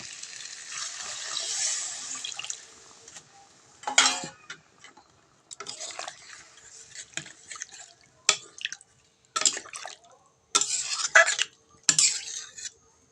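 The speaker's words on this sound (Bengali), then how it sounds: "এই আলুর মধ্যে আমি জল দিয়ে দেব" Water poured into a pot of potatoes for aloo dum: a trickling pour at first, then a series of separate clinks and scrapes of utensils against the pot, close and fairly quiet, with gaps between them.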